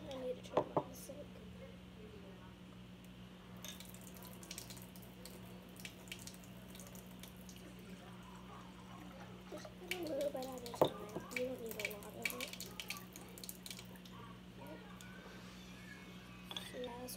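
Water is poured into homemade lemonade, a soft, faint splashing and trickling that swells in the latter half, with steady low hum underneath.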